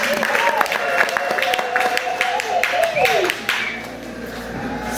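Audience applause at a graduation ceremony in Kitale, Kenya: a steady, fairly loud burst of clapping from a gathered crowd lasting a few seconds, fading slightly toward the end, with a voice heard over it.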